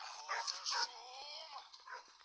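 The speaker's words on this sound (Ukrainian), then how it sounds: "О, собака." Dog barking and whimpering in the horror escape game Metel, a few quick yips and barks over a quiet background, faint and slightly distant.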